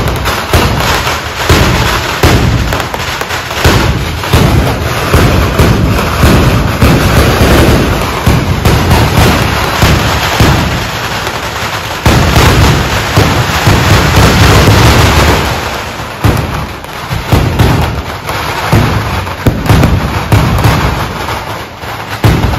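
Firecrackers burst continuously in a dense, loud barrage of cracks and pops during a church feast celebration, the explosions overlapping without pause.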